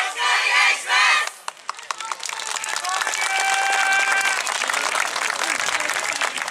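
A crowd at a YOSAKOI dance festival stage shouts and cheers, then breaks into steady clapping along with scattered calls, the clapping continuing loudly under the noise.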